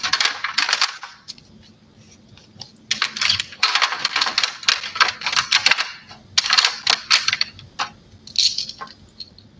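Loud dice clattering and rattling in bursts during a psychic reading session, with repeated hard tumbling clicks spread across the clip, as if rolled on a hard surface.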